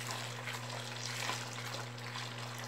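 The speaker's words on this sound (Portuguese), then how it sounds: "Tô colocando mais 2 litros de água fervendo" Two liters of boiling water are poured into a homemade liquid laundry detergent mixture, giving a steady close splashing and bubbling wash over a constant low electrical hum.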